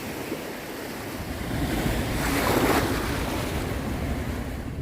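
Steady ocean surf and breaking waves on the Mediterranean coast between Alicante and Santa Pola, a continuous rushing wash that swells slightly in the middle, mixed with wind noise buffeting the microphone and no voices.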